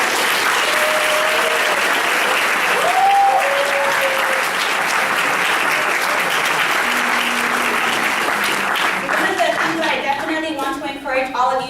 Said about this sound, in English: let's take a quick second to just give them a round of applause for their excellence.